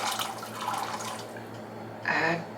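Water and chickpeas are poured into a pressure cooker in a close, splashing gush with a brief louder pour near the end.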